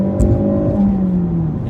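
2017 Ford Focus RS pulling flat out in second gear, a loud rising engine and exhaust note close by, climbing steadily in pitch with no speech.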